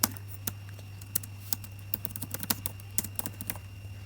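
Keystrokes on a computer keyboard as a database command is entered in a command prompt: a steady run of sharp, close clicks with irregular rhythm over a constant low hum, no talking.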